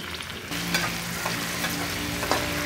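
Garlic dropped into lightly browned onions in hot oil, starting with a sudden jump in sizzle, then a steady close frying hiss with occasional stirring scrapes.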